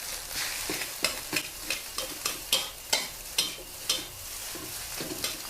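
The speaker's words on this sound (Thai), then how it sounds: "หลังจากนั้นการก็เอาข้าวใส่ลงไปเลยค่ ะ ไม่ต้องเน้นน้ำมันเยอะเนาะ เพราะว่าในไข่มันก็มีน้ำมันอยู่แล้ว กลับข้าวขึ้นมาค่ะ" Fried rice with egg tossed and turned in a pan with little oil, a spatula scraping in a regular rhythm of sharp strokes over a soft sizzle, close up with no voices.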